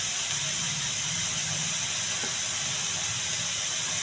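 Cauliflower curry sizzles and fries steadily in a pan, a constant broadband hiss holding even throughout with no talk over it.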